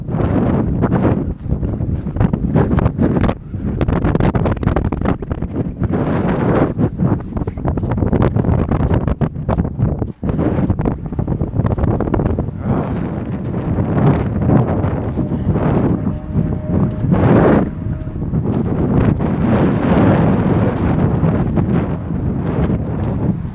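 Strong wind roars continuously into the microphone on a long-distance walking trip, with loud buffeting gusts and rumbling throughout.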